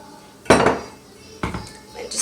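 Cupcake batter with flour is mixed in a bowl, heard as two distinct bursts of clattering utensil against the bowl, a short scraping rattle each time, separated by quiet; no speech.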